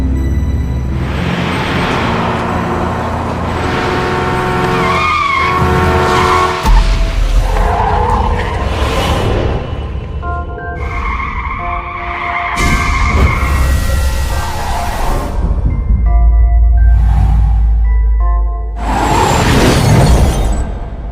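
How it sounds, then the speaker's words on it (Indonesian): Truck crash scene from a Korean drama: loud, sustained tire skidding and engine roar with shattering impact noises and a heavy dramatic music bed throughout, with no talking. "ternyata di sisi lain Sunbi udah pakai kekuatannya buat ngerakin truk agar nabrak Seung-yeol"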